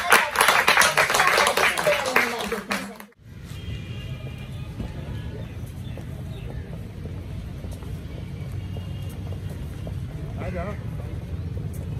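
Spectators at a Pakistani FM radio station's seventh anniversary ceremony clap in a loud, dense burst for about three seconds; it cuts off abruptly into a steady low outdoor rumble like wind or passing traffic.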